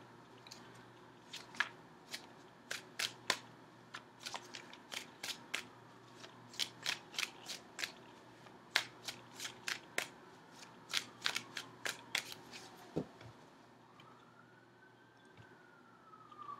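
Tarot cards shuffled for a reading, heard as a quick run of sharp riffling snaps, mostly steady then thinning toward the end, close and fairly quiet with a faint tonal sweep late on.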